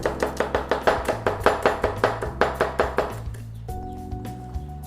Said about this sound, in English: take our onions and give them a slice in. So slice them through.